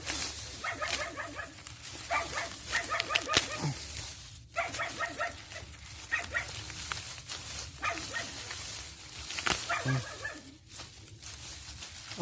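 A dog barks repeatedly at a rural Thai homestead where beef is being cooked, loud clustered barks in bursts with short gaps and some whimpering, over constant background noise.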